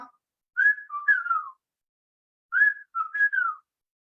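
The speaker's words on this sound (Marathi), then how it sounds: "एक पक्षी आहे त्याचं नाव आहे बुरखा हळद्या, आणि तो छान शिट्टी मारतो" A black-hooded oriole whistles two clear, fluty phrases of three or four slurred notes each, separated by a short pause, loud and close against silence.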